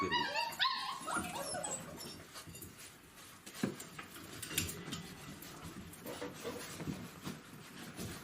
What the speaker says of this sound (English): Jetzt werden wir gleich sehen, wie eine Mami ihre Welpen berührt.